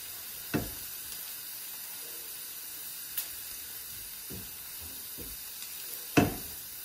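Onion and parsley frying in a pan for a green onion stew, a steady sizzle and hiss throughout with a few louder pops and clatters near the start and end, no one talking.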